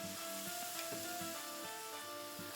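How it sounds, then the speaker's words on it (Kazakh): Syrup poured over hot baklava fresh from the oven sets off a loud, steady sizzle and crackle, with faint rhythmic pulses running through it. "Осылай баклавамыз біздің пештен шығып ыстық кезінде бетінен сироптан құямыз"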